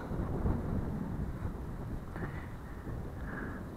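Strong wind buffets an outdoor walk between Aszófő and Balatonfüred by Lake Balaton, a steady, loud rumbling gust noise on the microphone lasting throughout with no let-up.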